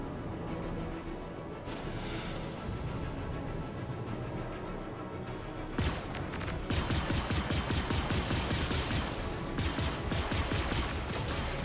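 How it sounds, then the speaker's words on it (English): In Star Citizen, an Anvil Arrow fighter fires its size 1 laser repeaters and size 2 ballistic Gatlings. Sparse bursts give way to a long, dense, rapid stream of loud shots over a constant engine rumble. "on the main turret, you have 2 size 1 laser repeaters, and on your wings you have 2 size 2 ballistic Gatlings"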